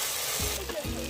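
Bengali spice paste with cumin powder sautéing in hot oil for a rohu-in-yogurt curry, a dense close sizzle with a couple of scraping stirs.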